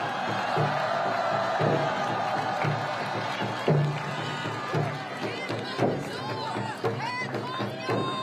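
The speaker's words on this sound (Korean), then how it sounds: "여러분 큰 박수 보내주시기 바랍니다." A large crowd at an outdoor presidential campaign rally claps and cheers steadily, with scattered shouts and whoops rising above the continuous applause.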